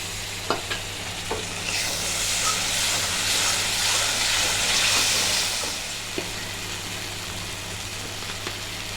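Mustard and poppy seed paste for a hilsa fish dish sizzling in a pan as it is stirred, a broad hiss that swells for several seconds and then fades, with occasional spatula taps.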